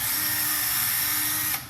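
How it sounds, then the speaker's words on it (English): A cordless drill whirs at high speed while clearing debris from axle holes for a wheel install, a close, steady whine for just over a second that cuts off sharply. "take our cordless drill, and we just want to get any debris that's inside of our axle holes out of there"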